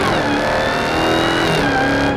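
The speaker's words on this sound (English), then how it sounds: "You leave it in auto, you floor it." A 2020 Dodge Hellcat Widebody floored at full throttle on the highway, a loud, steady engine roar with a rising whine and no break in the sound.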